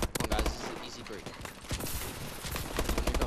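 Rapid gunfire in a competitive first-person shooter tournament match, bursts of close, loud shots cracking in quick succession, with players' voices mixed underneath.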